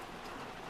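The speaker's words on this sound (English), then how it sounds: "It's raining cats and dogs and it's thundering." Heavy rain pouring steadily during a thunderstorm, a dense continuous hiss with no break, heard on its own.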